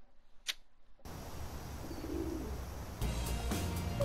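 Pigeons coo softly in the Pigeon Park bonus round of the Big Buck Hunter Arcade video game, a low, faint murmur beneath steady game ambience, with a brief high chirp near the start.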